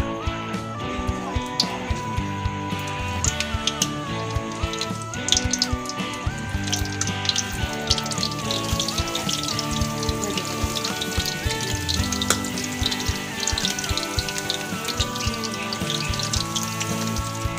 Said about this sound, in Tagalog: Ang ipiprito natin ngayon yung talong at saka